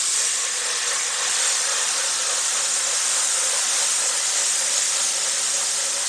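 Milk poured into a hot flour roux in a pan, a loud, steady hiss and sizzle of steam that holds evenly throughout, with no talking.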